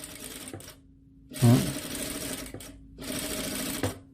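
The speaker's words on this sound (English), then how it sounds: "On the edge of that masking tape there, just stitch down, okay?" A sewing machine stitching down a seam along a masking-tape guide runs in three short bursts of rapid mechanical whirring, separated by brief pauses, close and clear with no talk over it.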